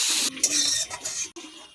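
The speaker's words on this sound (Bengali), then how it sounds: "এবার মাছের জন্য আলু ভেজে নিচ্ছি।" Potato pieces fry in hot oil in a pan for a ridge gourd fish curry, giving a close, bright sizzle broken by short scraping stirs and utensil clinks.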